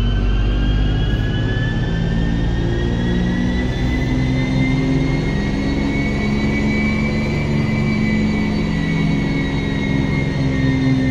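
A BMW X5 F15 engine is held wide open from about 1,500 to 5,000 rpm in a sustained, loud, rising whine and roar, with a jet-like turbine tone above a deep rumble.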